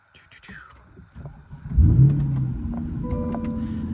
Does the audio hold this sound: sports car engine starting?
yes